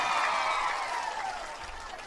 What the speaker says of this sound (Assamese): ঠিক কৈছো যদি হাত চাপৰি এটা মাৰক আকৌ